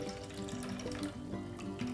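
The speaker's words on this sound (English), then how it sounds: "And then you're just going to pour in your water kefir." Water kefir poured through a funnel into a bottle, a quiet, steady liquid trickle with gurgling, rising tones as the bottle fills, heard alone without talk.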